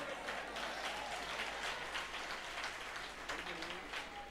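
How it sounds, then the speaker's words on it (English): Audience applause at a women's faith summit, a steady dense wash of many hands clapping at moderate distance, sustained throughout and tapering slightly at the end. "And so he deserves his applause too."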